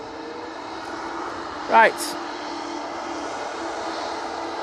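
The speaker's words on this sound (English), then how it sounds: "EasyJet now finally coming on in front of us." An easyJet airliner approaches on final at Manchester Airport, its steady engine drone running evenly at moderate level, with a brief voice cutting in near the middle.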